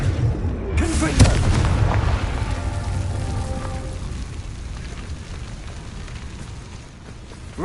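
A Confringo fire spell bursts in Hogwarts Legacy with a loud booming blast up front, followed by a crackling, rumbling tail that slowly fades, and a voice speaking over it.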